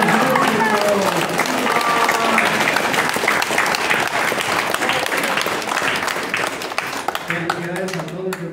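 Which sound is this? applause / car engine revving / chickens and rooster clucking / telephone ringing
applause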